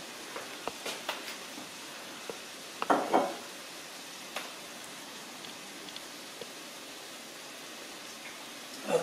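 Sausage fries in a pan as a faint, soft sizzle, broken by scattered light pops and a few louder spatters and utensil taps.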